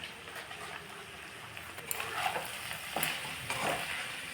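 Ginger paste, turmeric and cumin powder fry in hot oil for chicken bharta, a soft steady sizzle broken by a few scraping stirs of a spoon against the pan, close and alone.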